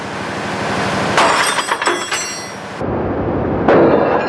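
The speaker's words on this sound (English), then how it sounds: "A demonstration clearly shows what happens underwater when piercing a 12mm ship's shell." A tool pierces a 12mm steel ship's shell underwater, giving loud cracking and breaking bursts over a continuous rushing background.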